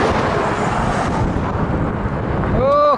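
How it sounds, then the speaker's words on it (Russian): Strong headwind buffeting a cyclist's microphone on a road trip across Russia, a loud continuous low rumble and roar throughout, with a brief tonal whine near the end. "Сильный встречный ветер."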